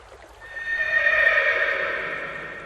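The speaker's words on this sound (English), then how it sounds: "The horse Kantaka was so grieved to be parted from Prince Siddhartha" A horse in an animated film about Prince Siddhartha lets out one long, loud whinny that swells and trails off over about two and a half seconds, heard alone with no other sound around it.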